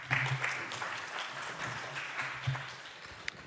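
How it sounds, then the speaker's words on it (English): Applause at a political dialogue conference on coal regions in transition, a soft, fairly distant patter of many hands clapping, steady and low, with a faint voice near the start. "A burst of enthusiastic applause for your remarks."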